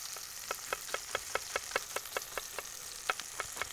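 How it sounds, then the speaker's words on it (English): Scallion and chopped onion fry in oil in a sturdy Dutch oven, a quiet steady sizzle with a regular series of soft taps from a utensil against the pot. "put oil in that sturdy Dutch oven there, and you start with the scallion, put a little bit of chopped onion"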